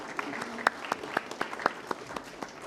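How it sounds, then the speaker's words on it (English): Applause from a conference audience at a national conclave on technical textiles, a brisk burst of many hands clapping in an indoor hall, steady and fairly loud with a few sharper claps standing out. "Loud applause, everybody."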